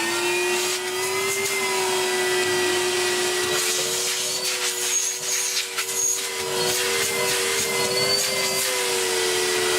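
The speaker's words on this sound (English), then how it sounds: "Red Henry doesn't seem to be sucking much better" A refurbished 2015 red Numatic Henry HVR200-12 vacuum cleaner runs continuously nearby, a loud, steady motor drone with a slight dip in pitch and small fluctuations in suction noise, with no talking.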